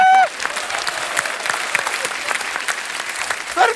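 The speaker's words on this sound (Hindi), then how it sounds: "क्या इनके लिए जोरदार तालियां हैं।" A TV comedy show studio audience breaks into loud, sustained applause, clapping steadily for several seconds, with a brief voice at the very start and end.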